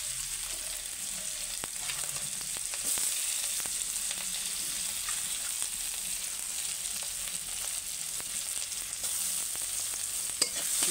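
Chopped onions sizzle in hot oil in a pan, a steady close crackle of frying with occasional stirring clicks and no talk.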